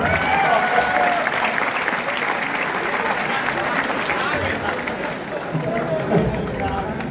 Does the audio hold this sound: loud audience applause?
yes